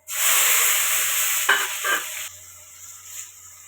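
Tomatoes tipped into a hot pan of oil with garlic set off a loud, close, hissing sizzle that fades over a few seconds, broken by two quick stirring scrapes.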